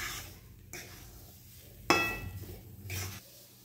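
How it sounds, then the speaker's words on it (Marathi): Semolina roasted with khoya in a pan while being stirred for rava laddoos, with soft scraping and rustling, a sharp clatter near the middle, then a low faint sizzle, close and quiet. "हे पहा, छान असं मिक्स करत भाजून घ्यायचं आहे"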